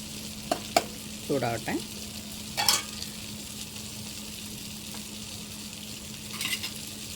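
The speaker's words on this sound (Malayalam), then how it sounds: "പരിപ്പ് കറി നന്നായിട്ട് തിളച്ച് വന്നിട്ടുണ്ട്" Dal lentil curry simmers in a pot, giving a faint, soft bubbling sizzle with a few louder pops and occasional light clinks.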